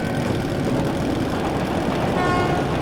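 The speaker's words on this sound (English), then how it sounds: "That's the train!" A steady low rumble of an approaching train in Metro Last Light fills the space, with a faint horn-like tone emerging near the end as it draws closer.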